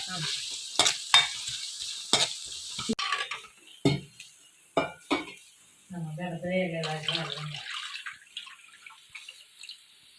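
Food fries in a pan in a village home kitchen, giving a bright sizzle with sharp crackles and stirring clatters, and a voice speaks briefly partway through.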